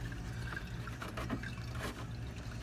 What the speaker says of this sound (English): So here's my nice clean filter going into the housing. And so the water will run through there.